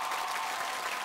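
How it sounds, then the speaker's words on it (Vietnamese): Brief, steady applause from a television music show audience, a dense wash of clapping heard alone and fairly faint. "Và một tràng pháo tay nữa dành cho bác sĩ Nguyễn Thành An"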